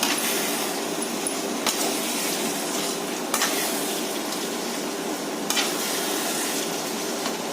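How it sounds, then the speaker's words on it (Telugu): Chicken for biryani sizzles loudly in a pan over high flame while being stirred, a dense continuous hiss broken by three sharp spatula knocks against the pan. "వంటని హై ఫ్లేమ్లో పెట్టుకొని ఈ చికెన్ బాగా కలుపుకోవాలి"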